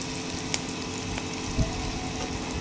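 Sugar added to onion and garlic frying in a pan hisses with a steady, close sizzle, with a few brief clinks and a short bubbling burst near the end.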